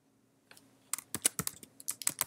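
Quiet, quick keystrokes on a computer keyboard, a short irregular burst of close clicks accelerating into rapid typing with no voice over it.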